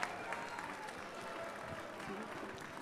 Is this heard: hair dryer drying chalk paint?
no